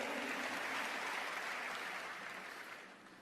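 A church congregation applauding during a sermon, a brief wash of dense clapping that fades out over a few seconds.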